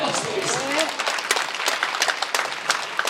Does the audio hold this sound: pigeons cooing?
no